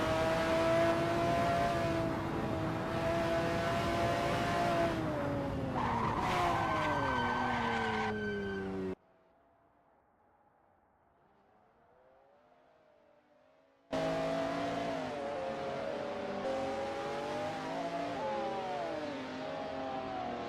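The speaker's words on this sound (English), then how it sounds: "the roar of the engine" A McLaren F1 GTR racing engine in a video game roars and shifts pitch with tire skids at Daytona, cuts to near silence for several seconds, then the roaring engine returns.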